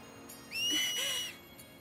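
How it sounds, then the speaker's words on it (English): A clear two-tone whistle from a character in Final Fantasy X HD Remaster, a rising then falling pitch held for under a second over steady game background noise. "The whistling."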